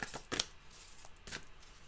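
Tarot cards shuffled by hand in two quick riffling bursts separated by a short pause, close and crisp in a quiet room.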